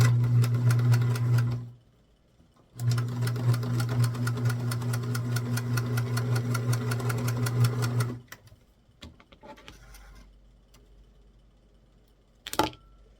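A sewing machine straight-stitches a half-inch back seam on an 8-inch doll dress, running in two steady bursts of rapid rhythmic clatter, the first short and the second longer, followed by quiet handling and a small click.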